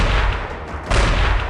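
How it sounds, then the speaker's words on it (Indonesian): Sharp, loud gunfire bursts crack in quick succession, a dense, harsh blast with a fresh impact partway through. "Berlanjut dengan 3 kali suara tembakan."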